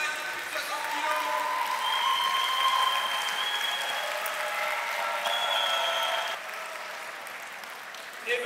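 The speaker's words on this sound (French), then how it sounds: "On applaudit bien fort cette première finale de plus de 60 kilos." The crowd at a Pro League CFJJB jiu-jitsu event applauds the first over-60-kilo final, sustained clapping at moderate distance with a voice speaking over it, fading slightly near the end.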